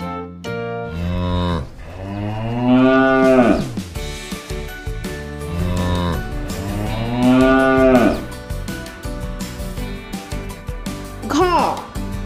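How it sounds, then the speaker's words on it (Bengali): A cow and calf mooing loudly and close, with two long drawn-out moos and a shorter call near the end. "গয়ে গরু বাছুর দাঁড়িয়ে আছে।"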